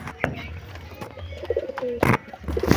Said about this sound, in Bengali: আর এগুলো লাল কাঠ পায়রা দেখো